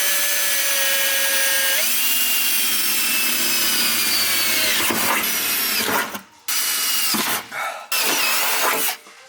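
Power drill boring holes for a battery tray in an R34 Skyline: a steady, loud whining drone that shifts pitch, then breaks into short bursts with brief pauses as the bit cuts through.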